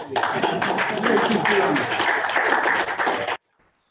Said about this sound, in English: I keep clapping so that the camera is this side